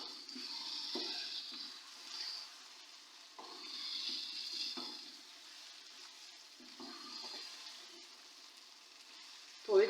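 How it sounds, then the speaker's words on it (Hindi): Water added to beef keema masala frying in a pan, a soft steady sizzle with hissy bursts and occasional stirring scrapes. "और थोड़ा सा इसमें पानी डालूंगी मैं"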